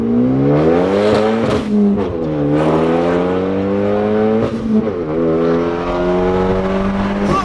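A widebody Genesis with about 430 horsepower drifts, its engine revving hard and loud in rising and falling sweeps, heard from inside the car without a break.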